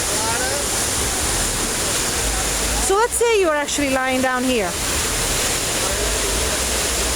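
Waves and falling water at the Mandalay Bay wave pool form a loud, constant rushing wash that fills the whole stretch, while someone speaks briefly over it near the middle.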